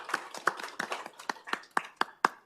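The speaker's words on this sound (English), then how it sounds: "let's give them a round of applause" Applause at a city council meeting, heard as a sparse scatter of separate claps rather than a full crowd, spaced irregularly and fairly faint in a quiet chamber.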